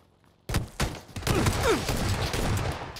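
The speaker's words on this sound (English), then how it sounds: "He's shooting at me!" Sudden burst of rapid gunfire in PlayerUnknown's Battlegrounds, several quick close shots followed by a sustained, dense clatter of fire and echoes.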